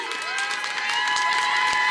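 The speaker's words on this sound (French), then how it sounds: "Allez, on applaudit." Dense crowd applause with some cheering at an anime convention Lolita fashion show, steady and fairly loud throughout, with faint tonal music-like hums underneath.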